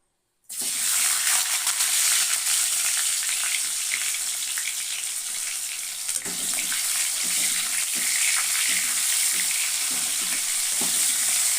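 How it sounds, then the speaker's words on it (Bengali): Tomato tipped into hot oil tempered with nigella seeds, an instant loud burst of sizzling that holds as a continuous close frying hiss with faint stirring underneath. "তেলে কালো জিরে ফোড়ন দিয়েছি এবার আমি এতে টমেটোটা দিয়ে দেবো"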